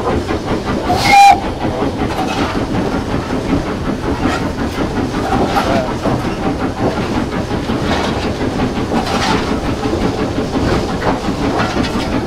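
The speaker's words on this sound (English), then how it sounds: "So I'll give a toot on your whistle there." Steam whistle of LMS Hughes Crab locomotive no. 13065 sounding one short, loud toot near a crossing, followed by a continuous hiss and rumble of the moving engine.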